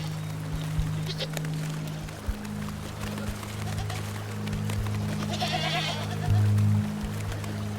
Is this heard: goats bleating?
yes